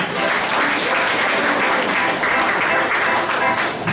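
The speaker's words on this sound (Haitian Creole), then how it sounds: "On applaudit le Seigneur." A church congregation at a Sunday service claps together in a dense, steady burst of applause that holds at an even loudness throughout.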